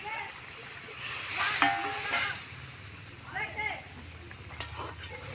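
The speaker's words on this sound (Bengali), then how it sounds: "ট্যাংরা মাছ ভাজাগুলো দিয়ে দিলাম।" Fried tangra fish go into a simmering fish curry with a burst of sizzling and splattering, followed by quieter bubbling and a small clink, and a voice talks briefly alongside.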